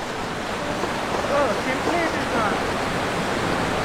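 A river rushes at a difficult water crossing in the Himachal Pradesh mountains between Komic and Losar, a steady broadband roar of flowing water with faint voices briefly heard over it.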